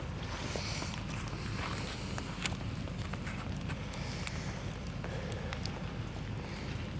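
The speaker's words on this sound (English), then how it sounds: "I wish it wasn't raining." Rain falls steadily at a forest camping base camp, a soft continuous patter with scattered sharper drips striking nearby surfaces, fairly faint and without speech.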